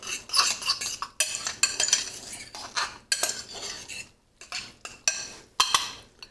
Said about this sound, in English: we're just going to mix that into the rice